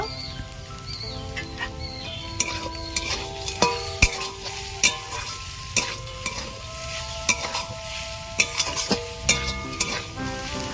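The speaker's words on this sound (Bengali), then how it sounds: "শাক ভাজা হয়ে গেছে এবার আমি নামিয়ে নেব" Susuni greens frying in a pan with a little sugar, a steady sizzle broken by repeated sharp clinks and scrapes of a spatula against the pan, close and moderately loud throughout.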